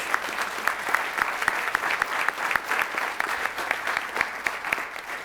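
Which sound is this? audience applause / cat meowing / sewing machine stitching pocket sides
audience applause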